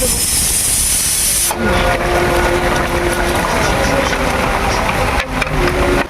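Water heats in a pot over a cooking fire for beef biryani, giving a loud, steady hissing and bubbling rush that continues without pause, with a brief dip near the start.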